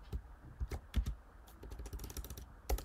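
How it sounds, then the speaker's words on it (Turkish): Quick, uneven keystrokes on a computer keyboard while code is typed, a close series of light clicks with short pauses and no one speaking. "Şimdi color yazıyorum."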